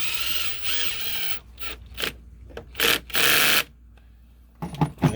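A ratchet fitted with a 5/16 socket works on a 2009 Infiniti G37x during a spark plug change, producing close, loud bursts of rapid clicking separated by brief quiet gaps.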